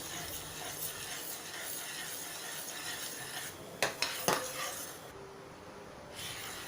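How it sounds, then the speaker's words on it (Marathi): Mango jam being stirred in a pan on a stove over medium heat gives a quiet, continuous scraping rub, broken by two or three sharper clinks of the spoon against the pan. "हे बघा, आपल्याला असं छान हे ढवळत राहायचं आहे"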